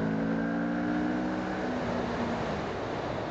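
A Moto Morini 6½ 650cc motorcycle engine blipped in third gear at about 55 mph, a steady loud engine drone with rising and falling tones under heavy wind rush throughout.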